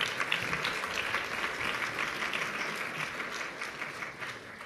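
At a Los Angeles Business Council summit, a large audience applauds Stephen Traynor with steady, dense clapping that holds a constant level throughout.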